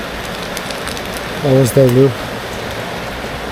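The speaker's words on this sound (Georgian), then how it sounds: "ისე წვიმს" Heavy rain falls steadily during a long motorcycle tour from the Netherlands to Georgia, an even hiss throughout. Someone briefly speaks over it midway.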